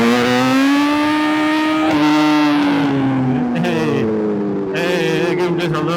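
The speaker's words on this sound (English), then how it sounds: "Let's give him a little wheelie." A sport motorcycle, a BMW S1000RR or Aprilia RSV4, revs hard in rush hour traffic, a loud close engine whine rising and falling, with short sharp bursts and voices talking over it.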